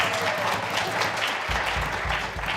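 An audience applauds a church worship band, a steady, dense wash of clapping that fills the room throughout, with some low rumbles near the end.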